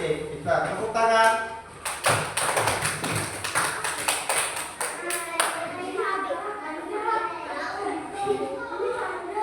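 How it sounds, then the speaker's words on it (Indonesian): Children in a classroom clapping their hands together, a burst of sharp rapid claps with some taps and thuds, mixed with kids talking and an adult voice before and after. "Kita tepuk tangan."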